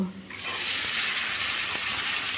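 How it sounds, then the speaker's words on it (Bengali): Potatoes hit hot oil with gram masala, coriander and cumin powder and burst into a loud, steady sizzle that holds close and constant after a brief quiet start. "অল্প একটু জিরে গুঁড়ো দিয়ে মশলাটাকে খুব ভালো করে তেলের সঙ্গে ভেজে নিয়ে আলুগুলোকে দিয়ে দেব"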